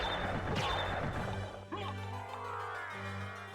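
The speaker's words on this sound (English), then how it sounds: "Especially when you're wing smashing as much as I am." Wing smash attack in Castlevania: Symphony of the Night, bat form, a sharp crashing whoosh and thud among layered game sound effects and music, fairly quiet throughout.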